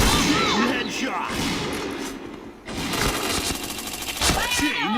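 Rapid automatic gunfire from the PointBlank shooting game rattles in dense bursts, broken by a short pause midway, while a voice talks over the shots.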